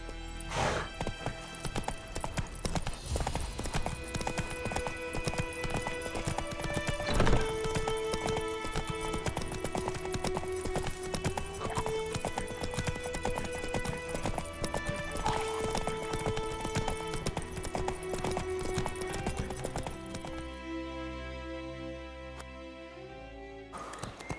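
Roach, Geralt's horse in The Witcher 3 Next-Gen update, gallops with rapid clip-clop hoofbeats under a loud orchestral game score, the music thinning out near the end.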